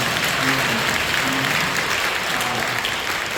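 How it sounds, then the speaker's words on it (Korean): Church congregation at a Korean Full Gospel service applauding to welcome a newly visiting family, steady full-room clapping throughout with faint music underneath. "여러분 박수로 환영해 주시죠."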